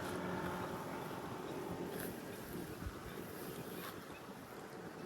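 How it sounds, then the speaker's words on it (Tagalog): Strong wind blowing over open water on an overcast day, a constant loud rushing buffet across the microphone with faint wave wash and no clear talk. "Lakas ang hangin ngayon ah."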